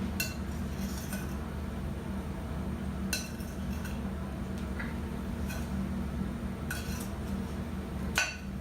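A slotted spoon clinks lightly against a bowl while raspberries are tossed with sugar, sparse soft taps scattered over a steady low kitchen hum.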